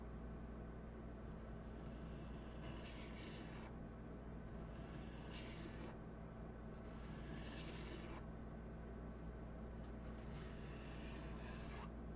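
Razor blade sharpened on a sharpening stone: quiet, steady rasping strokes repeating every two seconds or so over a constant low hum, close and faint.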